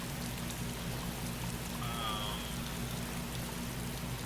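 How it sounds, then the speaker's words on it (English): Heavy rain falling in the video game DayZ makes a dense, constant hiss that fills the whole clip, with a low steady hum beneath it. "it's starting to rain really hard"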